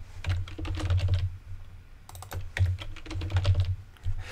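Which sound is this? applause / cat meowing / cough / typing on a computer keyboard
typing on a computer keyboard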